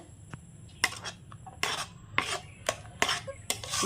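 Guava jelly thickening in a pan with cornflour, the spoon scraping and clinking against the metal in a run of sharp strokes every half second or so, close and fairly loud with no voices.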